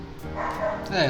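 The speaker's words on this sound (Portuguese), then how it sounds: "tem cachorro latindo aqui perto, então é isso." A dog barks and yips close by, several quick sharp barks mixed in under a person talking steadily in the foreground.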